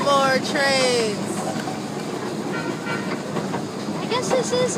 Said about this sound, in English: More trains.